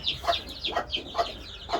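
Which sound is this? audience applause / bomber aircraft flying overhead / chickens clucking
chickens clucking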